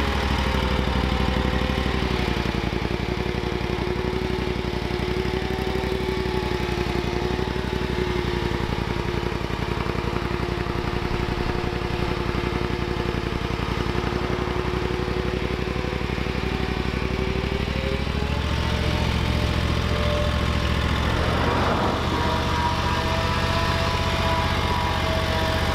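A riding lawn mower on Michelin Tweel turf tires idles on a steep slope, a steady mid-pitched engine drone throughout, with a shift in tone around two-thirds of the way through as it settles back.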